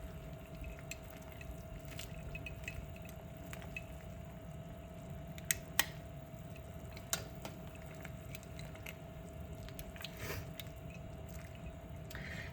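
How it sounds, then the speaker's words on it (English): Kale is stirred into a pot of sausage potato soup, giving faint wet squishing and dripping with a few small clicks against the pot over a low steady hum. "Stir in that kale."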